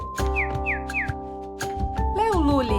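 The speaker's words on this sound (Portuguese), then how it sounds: "Este é o som do pintinho e ele vai piar outra vez." A chick peeps in a children's farm-animal sound lesson: three quick rising chirps, then a pause and a longer run of sweeping peeps, all over a steady musical backing.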